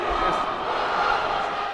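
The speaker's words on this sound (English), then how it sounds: "if we see now the crowd performing a haka to the team" A stadium crowd in Wellington performing a haka at a wheelchair rugby tournament, a loud massed chant of many voices, continuous and roaring, heard from within the arena.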